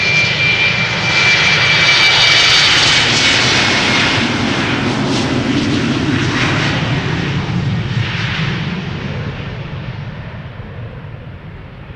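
KLM airliner taking off from Amsterdam Schiphol bound for Glasgow: a loud, sustained jet engine roar that holds steady, then slowly fades as the aircraft climbs away, with no voices.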